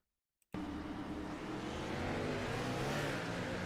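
After a moment of silence, a loud engine roar bursts in and holds, a harsh revving drone from a nearby race car spinning its rear tyres at Iowa Speedway, with no talking.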